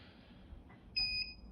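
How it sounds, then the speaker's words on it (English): A short electronic beep from a home solar-and-battery setup sounds just as the fridge compressor switches on: a clear two-tone tone lasting about a quarter second, near and alone over a low background hum. "The fridge compressor's come on and it's beeped."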